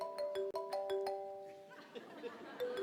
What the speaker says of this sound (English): I hear a cell phone from the stage